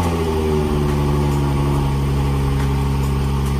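The steady, loud, low rumble of a 2014 car's engine settling into idle in a home garage, the pitch shifting slightly early on and then holding even, with no voices.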